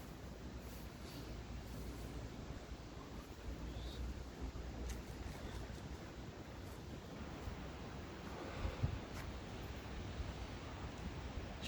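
Steady broadband wind rushing outdoors in the Smokies, a constant roar of buffeting air against the microphone with no voices, holding level throughout.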